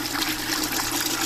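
Water gushes out of the bottom drain of a backyard aquaponics fish tank, a brief, steady rushing flow.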